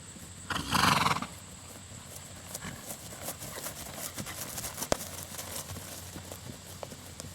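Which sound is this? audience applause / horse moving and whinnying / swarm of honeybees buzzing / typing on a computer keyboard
horse moving and whinnying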